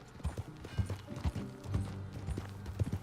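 Horse hooves clip-clop at a steady walking rhythm in the Western video game Red Dead Redemption 2, with distinct thuds repeating every few tenths of a second against a quiet background.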